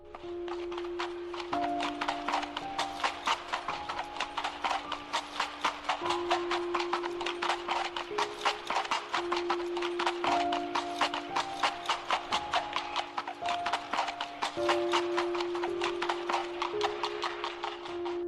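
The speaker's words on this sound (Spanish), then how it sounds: "escuchó cómo se acercaba el sonido de los cascos de un caballo" Horse hooves clip-clop in a steady, even walking rhythm, close and distinct, over a soft sustained musical drone with occasional note changes.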